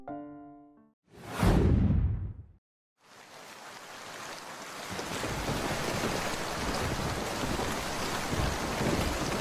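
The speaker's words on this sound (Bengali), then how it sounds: "বাইরে প্রবল ঝড় বৃষ্টির শব্দ শোনা যাচ্ছে" A heavy storm with rain, used as a cartoon sound effect: a loud rushing whoosh sweeps past, then after a brief silence a dense, steady roar of rain and wind swells and carries on.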